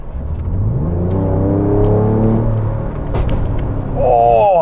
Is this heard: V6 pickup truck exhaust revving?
yes